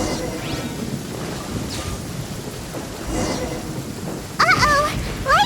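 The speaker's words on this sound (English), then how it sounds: "Lightning storm!" A steady downpour hisses through a Genshin Impact thunderstorm as low thunder rumbles roll beneath it, and a brief chirpy vocal sound breaks in near the end.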